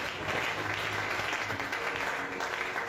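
A church congregation applauds together at a francophone prayer service, a dense and steady clatter of clapping that fills the room at close range for the whole stretch, with faint voices mixed in.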